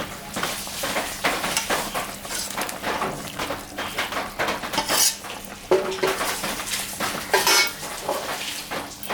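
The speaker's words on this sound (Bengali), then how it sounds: "ঝোলটা ফুটে গেছে, এখন আমি মাছটা দিয়ে দেব।" Hilsa fish pieces go into a pot of boiling mustard curry, giving clattering of utensils against the pot and scraping stirs over a steady bubbling simmer. The sound is close and continuous with a few sharper knocks, and nobody speaks.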